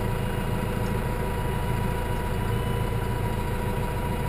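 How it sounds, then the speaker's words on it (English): A Massey Ferguson tractor engine idles steadily nearby, a low continuous rumble with a faint mechanical hum and no talk over it. "and we'll drive the tractor right in."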